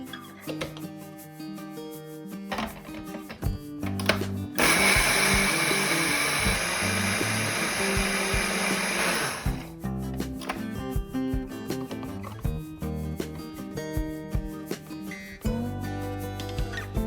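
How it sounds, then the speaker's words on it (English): A blender roars loudly for about five seconds, a harsh whirring grind of oats into flour, between stretches of background music and clattering. "Into a blender, we'll add some oats and we'll grind them in a fine powder."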